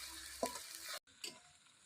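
Onions and spices frying in a pan for village-style khichuri give a brief, close sizzle that cuts out for a moment and then resumes, with a few light stirring clicks.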